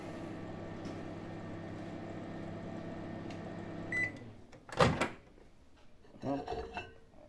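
A microwave oven heating silicone for homemade fishing lures hums steadily for about four seconds, then its beep sounds and the hum stops, followed by a door clatter and a few handling knocks.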